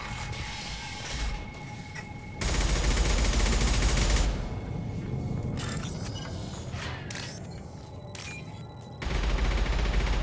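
Gunfire from a firefight in the video game Mass Effect 2, loud and sustained: bursts of shots and clattering weapon noise fill the clip, surging hardest at the start and again near the end.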